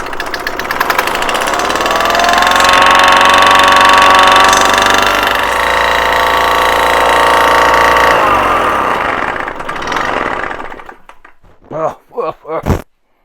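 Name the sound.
Solex moped engine running after bottom-end rebuild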